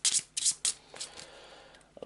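Three crisp, close riffles of a discard pile of Descent 2nd Edition board game cards, followed by softer sliding and squaring of the deck.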